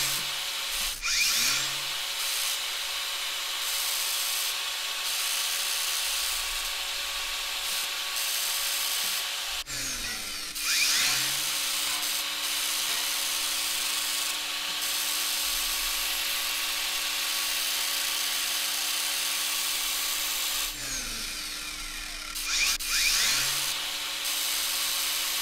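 Steady, continuous abrasive grinding noise in the Gas Station Simulator video game, running for a long stretch with brief breaks in tone and a faint low hum beneath it.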